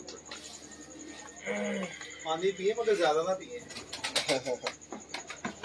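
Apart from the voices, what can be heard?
pigeons cooing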